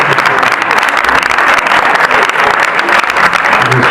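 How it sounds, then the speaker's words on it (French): Steady, loud audience applause fills a school reading-program gathering at a lycée, dense clapping sustained throughout with a faint murmur of voices underneath. "On applaudit très très très fort"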